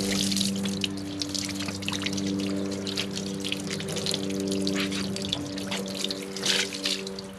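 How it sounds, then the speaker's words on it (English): A gentle hose stream runs over a ceramic-coated car hood with a soft, steady splashing and trickling of water, close by and unbroken, over a faint low hum. "you just run a very gentle hose stream over it and it will essentially dry"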